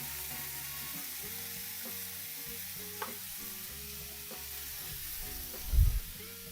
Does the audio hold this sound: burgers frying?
yes